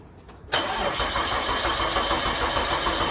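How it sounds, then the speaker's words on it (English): Nissan Skyline R34 engine cranking with its crank angle sensor unplugged, a brief click followed by a steady, close starter-motor whir that continues without the engine firing. "And Mr. Ollie, if you want to give that a crank."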